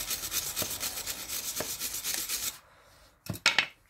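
A wire brush scrubs rust and corrosion off a front brake bracket on a 2018 Chevy Cruze LT, with fast, steady scratchy strokes up close, then a pause and a couple of final harder scrapes.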